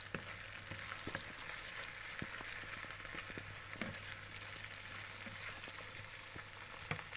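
Onions, peppers and finely chopped garlic fry in oil, making a soft, steady sizzle at low volume, with light taps and scrapes as they are stirred.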